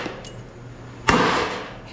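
A big hammer swung in a shop while a utility trailer is being stretched into a car hauler lands one sharp, loud metallic strike near the camera, with a ringing wash trailing after it, following a quiet lead-in.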